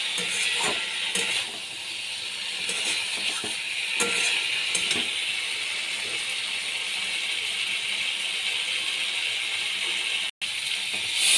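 Cauliflower and potato pieces fry in a pan, a continuous close hiss of sizzling broken early on by rattling stirs and scrapes of the spatula, then settling into an even sizzle.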